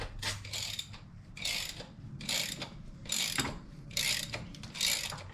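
A stud removal tool ratchets a stud out of a Toyota V8, giving repeated bursts of rapid metallic clicking in a steady rhythm, close and moderately quiet with no voices.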